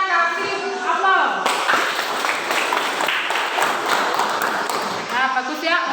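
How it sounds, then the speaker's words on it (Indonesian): A classroom of students gives a burst of clapping and applause for the first group, several seconds of mixed hand claps with a teacher speaking before and after. "Itu hasil dari kelompok 1. Kita kasih aplaus."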